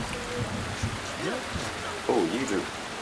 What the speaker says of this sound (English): Why is the rain so loud?